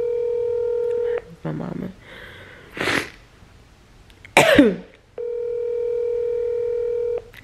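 Phone call to mom: a steady dial tone, then a burst of keypad tones, a cough, a sharp sneeze-like noise, and the tone again. A voice speaks briefly in between.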